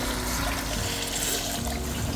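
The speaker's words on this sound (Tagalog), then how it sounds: "Lagyan mo ng tubig mo." Water poured onto uncooked rice in a pot, a steady close gush and trickle running throughout with no pauses.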